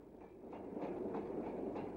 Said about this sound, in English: Coming under Leverton Road Bridge with coal is Staveley Borough Hills WD 90410.